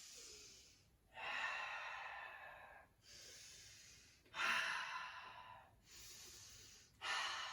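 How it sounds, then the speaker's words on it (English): Slow, deep breaths drawn in and let out during a dance and movement warm-up, each long airy rush lasting a second or two and separated by brief pauses, close and clear with no talk. "Breathe in, breathe out."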